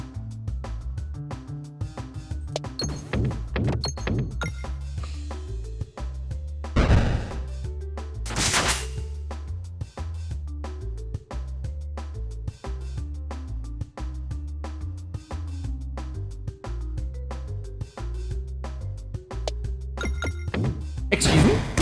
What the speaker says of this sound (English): I guess now is when I have to start setting off bombs.